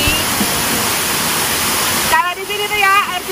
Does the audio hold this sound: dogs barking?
no